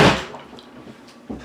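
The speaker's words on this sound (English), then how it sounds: "Let me just shut the door again." A door shut indoors, one close thud at the start that fades out, followed by a second softer knock near the end, no voices.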